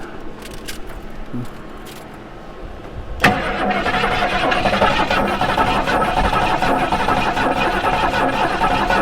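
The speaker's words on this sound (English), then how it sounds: "You want to squirt a little fuel in there while I crank on it?" A 1973 Ford Mustang Mach 1 engine being cranked and fired after years unused: quiet ticking and rustle, then an abrupt catch as the V8 roars to life and settles into a loud, steady rumbling idle.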